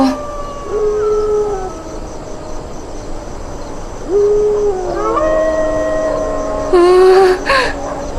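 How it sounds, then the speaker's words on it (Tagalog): Dogs howling in a scene from a Tagalog-dubbed Thai film: several long, wavering howls that rise and fall, one after another and then overlapping toward the end, fairly close and with no talk. "Bakit sila umaalulong ng ganon?"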